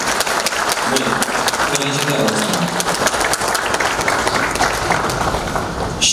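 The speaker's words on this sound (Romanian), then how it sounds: "Eu zic că merită aplaudată." Audience applause at a Dărmănești award ceremony honouring couples married 50 years, dense continuous clapping from a large crowd, loud and close, holding steady for several seconds.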